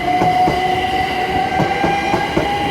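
A passenger train heading toward London Paddington passes close by at speed, with loud rhythmic wheel clicks over rail joints and a sustained tonal whine from wheels and traction.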